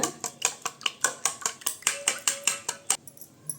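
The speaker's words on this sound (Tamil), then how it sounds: "பெப்பர் சேர்ந்து நல்லா கலந்து விட்டுக்கலாங்க நல்லா கலக்கிக்கலாங்க" A utensil beats raw eggs seasoned with pepper in a bowl, producing a quick, steady series of sharp clinks and taps, close up, about a dozen strokes in under four seconds before stopping.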